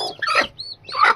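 A hen brooding a clutch of turkey eggs gives a few short, close clucks and throaty calls in quick succession, loud and alone.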